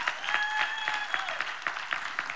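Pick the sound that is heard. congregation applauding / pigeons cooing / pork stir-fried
congregation applauding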